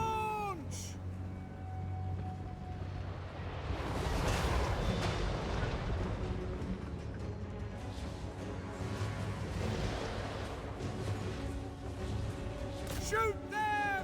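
Cannon artillery fire in a Total War Warhammer battle: heavy booming blasts with broad rumbling swells, mixed with shouted battle voices and other game sounds.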